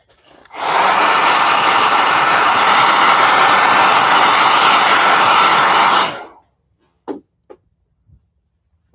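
A hair dryer blasts at close range onto a freshly stamped fold-over card, a steady loud airy roar of about five and a half seconds that cuts off abruptly, followed by a few faint handling clicks.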